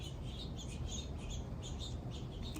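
Small birds chirp and tweet in quick scattered bursts at moderate distance in a backyard garden, over a steady low outdoor rumble.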